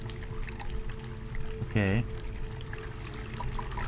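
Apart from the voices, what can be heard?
water flowing through a drain pipe, from a video game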